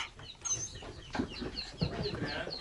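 Chickens scuffling in a village yard, giving short clucks and a few sharper squawks in irregular bursts at moderate distance.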